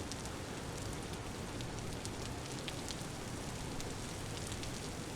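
Rain falls in the Vintage Story video game as a faint, steady hiss of drops with scattered soft patters, continuous throughout and without voices.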